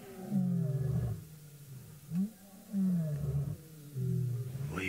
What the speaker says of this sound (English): Well, you can hear the lions are calling.